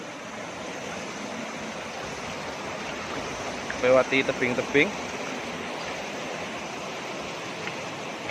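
A small, clear river flows beside cliffs on the way to Madakaripura waterfall, giving a steady, even rush of water throughout, with a brief spoken phrase over it midway.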